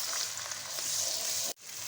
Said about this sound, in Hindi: कढ़ाई में हम 1/2 कप ऑयल का डाल देते हैं और साथ में हम 1 टेबलस्पून अदरक डाल देते हैं